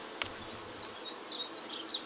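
Honey bees drone around an opened beehive during a honey harvest, a faint steady buzz with a few higher passes from individual bees flying near.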